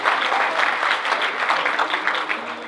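A church congregation applauds during a worship sharing service, giving a dense, continuous wash of clapping from many hands, fairly close and steady throughout with no break.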